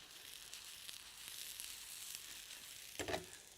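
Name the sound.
onion frying in a pan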